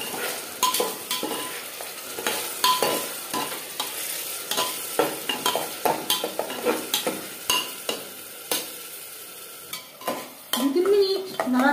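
Fried onions and tomato paste stirred in a pan for mutton curry, with a low sizzle under repeated close scrapes and clinks of a spoon against the metal pan in an uneven rhythm.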